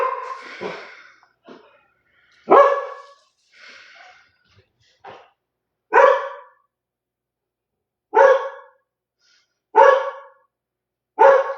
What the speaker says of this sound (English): Don't bark. Don't bark. Don't bark.